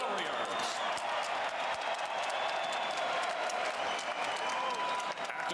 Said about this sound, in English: let's have a round of applause for these two featherweight warriors